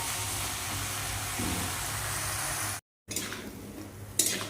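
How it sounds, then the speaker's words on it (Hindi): Mixed vegetables, including pumpkin, are stir-fried with a cumin tempering in a pan, giving a steady close sizzle with brief scraping stirs and a short cut in the sound. "दो सब्जी मिला के बना रहे हैं एक साथ"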